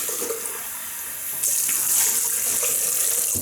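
A tap runs steadily into a sink for rinsing after a shave, a close hissing stream of water that grows slightly louder partway through, with no talking.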